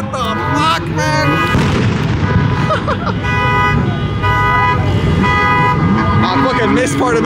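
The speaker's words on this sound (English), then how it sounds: "fireworks went off right now" Fireworks burst and crackle in a sustained barrage at a car meet of modified Honda Civics, mixed with car horns toots and engine noise, loud and close with people talking throughout.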